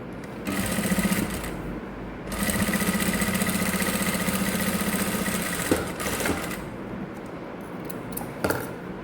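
A sewing machine stitches a basic seam in close, steady runs, starting, stopping briefly and starting again, with light clicks of handling between passes.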